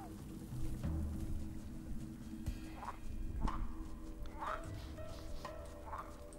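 Faint frog croaks repeat every second or so against a steady outdoor background hum by a river at night, distant and soft.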